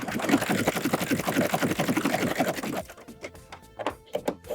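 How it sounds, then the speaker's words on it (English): A serger stitches sock fabric in a rapid, steady mechanical chatter at close range, then stops abruptly, leaving a few soft clunks and handling sounds. "now I'm going to serge off."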